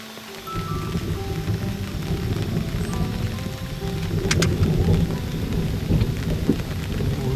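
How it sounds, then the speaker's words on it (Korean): A thunderstorm at a reservoir fishing spot, with steady, loud rain hissing on surfaces throughout and a sharp crack of nearby thunder about midway, continuing alone with no voices. "번쩍 번개 쳤습니다"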